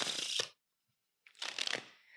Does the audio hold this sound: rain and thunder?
no